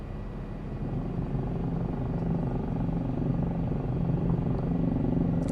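A Taugs Hangar 500C helicopter flies in Microsoft Flight Simulator 2024, its steady, rumbling rotor and engine drone loud and constant throughout, with no talk heard.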